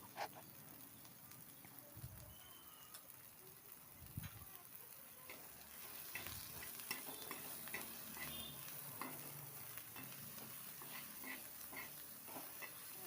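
Chopped onion frying and being stirred in a pan, a soft, steady sizzle with occasional scraping strokes of the spoon, close but faint, growing a little louder midway.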